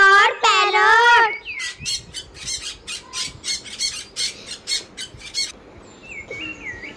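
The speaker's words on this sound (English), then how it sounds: "P for parrot." A parrot gives a burst of harsh squawks, then a rapid series of about a dozen short, evenly spaced chirping calls, close and clear, with a faint extra call near the end.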